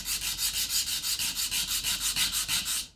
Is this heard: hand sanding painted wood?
yes